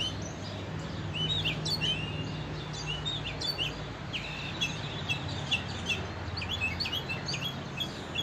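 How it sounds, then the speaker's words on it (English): Birds sing and chirp outdoors on a sunny morning, with many short, high calls scattered throughout over a steady low background hum. No one speaks. "I love listening to the birds sing"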